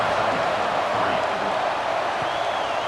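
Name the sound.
stadium crowd buzzing in the video game College Football 26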